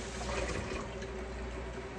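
Cold water is poured over chopped onions in a steady, close, gushing stream of liquid with no voices.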